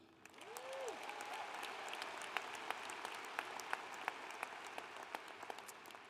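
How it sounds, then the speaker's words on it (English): Sustained applause from a large crowd at a university commencement ceremony fills the space, a dense wash of clapping with scattered sharper claps standing out near the front. "Can we get a round of applause for them?"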